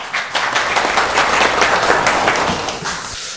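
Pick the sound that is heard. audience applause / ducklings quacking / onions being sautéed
audience applause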